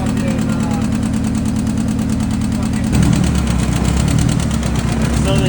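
A Nissan SR20 car engine idles steadily with an odd added noise, a continuous close rumble that grows heavier partway through.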